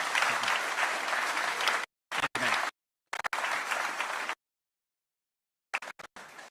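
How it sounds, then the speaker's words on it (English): Town hall audience bursts into loud applause for a combat veteran, clapping in bursts broken by short silent gaps and a longer pause before more clapping resumes. "Give this man a round of applause"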